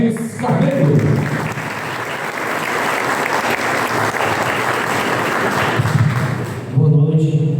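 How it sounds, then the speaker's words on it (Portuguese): Audience applause welcoming a mayor at a book launch event, a long burst of loud, dense clapping from a packed room with occasional thumps, swelling again near the end. "vamos receber também com a salva de palmas o prefeito de Boa Viagem, Regis Carneiro"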